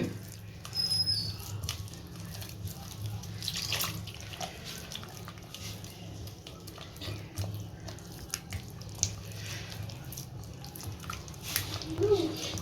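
Raw banana bajji batter being mixed by hand in a bowl until smooth and free of lumps, a steady wet swishing and squelching close by that runs throughout, with a few sharper splashes and people talking over it.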